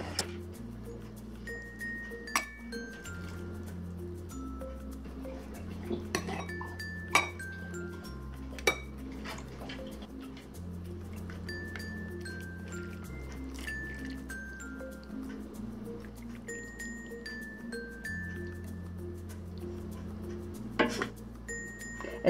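Soybean sprout and tomato soup is ladled into a bowl, with soft clinks of a ladle and dish, light splashing and occasional sharper taps over a quiet kitchen background, no talking.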